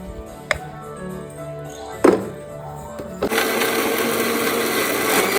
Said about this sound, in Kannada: ಮಿಕ್ಸಿಗೆ ಹಾಕಿರಲಿಲ್ಲ. ಸೊ ಇವಾಗ ಮಿಕ್ಸಿಗೆ ಹಾಕೋಣ.